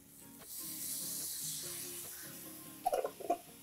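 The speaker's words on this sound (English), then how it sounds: "the next thing we're going to add is a little bit of soy sauce" A little soy sauce goes into a lamb and potato goulash in a hot pan, and a soft, steady sizzle and hiss follows. A few louder crackles and stirring scrapes come near the end.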